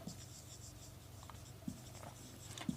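Marker or chalk strokes on a classroom board during a maths lesson: quiet, soft scratching with a few light taps, heard alone at low volume.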